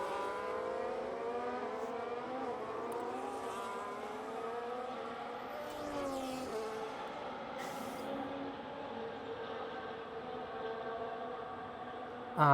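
Race cars lapping the Abu Dhabi track in a sim racing game, with engines droning and shifting pitch steadily. Several cars are heard close together and the sound keeps going, with no voices.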